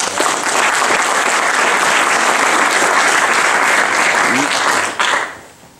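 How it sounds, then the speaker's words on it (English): Loud, dense applause from an audience at a philosophy of physics lecture, sustained for about five seconds before quickly fading out. "So let's give her a round of applause."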